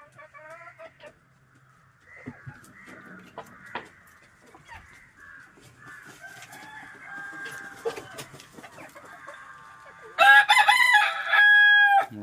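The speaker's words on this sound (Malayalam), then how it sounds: "പൂവന്മാർ 2 പേരും ഉണ്ട്, അതുപോലെ പിടക്കോഴികളും ഉണ്ട്." Native backyard chickens, two roosters with several hens, make soft scattered clucks and short calls before a loud, close rooster crow bursts out near the end.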